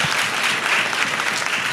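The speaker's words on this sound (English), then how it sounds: "let's give you all a round of applause" Brief round of applause from workshop participants at a Character Day event, a dense, even wash of many hands clapping, fairly loud and without talk.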